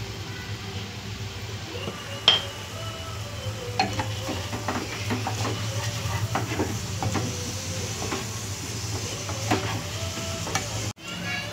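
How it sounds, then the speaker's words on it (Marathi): Salt being stirred into saffron coconut rice in a pot, a soft continuous scraping and stirring texture over a steady low hum, with a sharper clink near the start and a brief drop near the end. "आता छान ढवळून घेऊयात"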